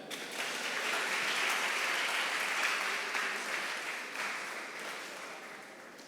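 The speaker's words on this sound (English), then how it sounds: "In Penufo, please clap for them." An audience at a workshop on social media and music promotion claps together in sustained, even applause that fades slightly toward the end.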